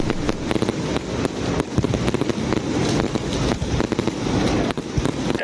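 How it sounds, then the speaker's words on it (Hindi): Fireworks burst over Town Hall in Lahore, a dense run of sharp cracks and pops one after another, loud and continuous with no voices. "टाउन हॉल लाहौर में आतिशबाजी की गई"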